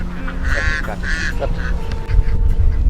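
Ducks on a farm of about 700 birds, several loud, nasal honking quacks in quick bursts close by, over a low rumbling background.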